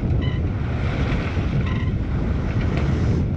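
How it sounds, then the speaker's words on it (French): Waves and strong wind buffet a small sailboat on a solo sail, a dense, loud roar of wind noise and rushing water heard close, with no speech. "attention les vagues"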